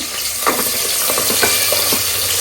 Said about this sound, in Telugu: ఇవి ఫ్రై అవుతూ ఉంటుంది